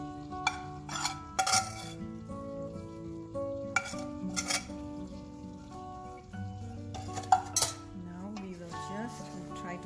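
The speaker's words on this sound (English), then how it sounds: "stir a little bit, not too much. You cannot mix it like really mixing it. Just stir it like this." A pot of Gujarati undhiyu, a mixed vegetable dish with tuvar lilwa, is gently stirred, giving soft scraping and occasional clinks of a spoon against the pot over steady background music.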